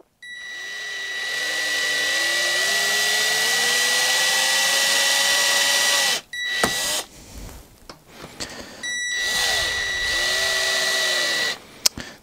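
Power screwdriver driving a screw into a plasterboard wall anchor, a long steady motor whine with a rising pitch, then short stop-start bursts and a final clack.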